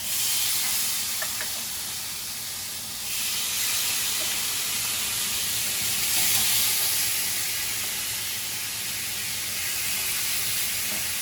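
Kalbi short ribs seasoned with black pepper sizzle steadily in a hot pan indoors, a loud continuous hiss with slight swells in intensity, close and alone without talk.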